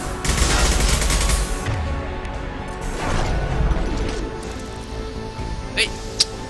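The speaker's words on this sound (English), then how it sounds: "Now get your assault rifle." Assault rifle fire crackles in rapid bursts during a Mass Effect 2 firefight, loud and dense at first, then thinning into scattered shots and impacts, with voices speaking over the battle.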